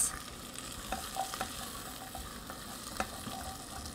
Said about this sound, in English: I'm gonna saute that for a couple of minutes.